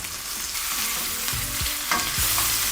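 Lamb chops frying in a pan and being basted, a steady hiss of sizzling fat broken by a few soft scrapes and spoon movements, close and continuous.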